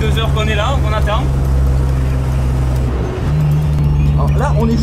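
Drift car engine running on a warm-up lap, a loud steady low drone with a brief dip in revs, heard close under continuous talking.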